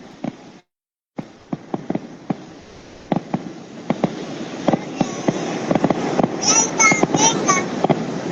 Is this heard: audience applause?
no